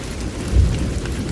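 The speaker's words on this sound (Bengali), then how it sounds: "এর মধ্যে ঝমঝম করে বৃষ্টি নেমে এলো।" Heavy rain roars steadily while a low rumble of thunder swells briefly in the middle, no voices.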